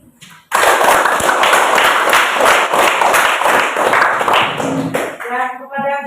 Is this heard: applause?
yes